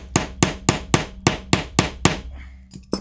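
A hammer drives a pin out of a CZ 75 B pistol during a Cajun Gun Works race hammer install. Eight sharp, evenly spaced metallic blows ring out close by, followed by a pause and two lighter taps.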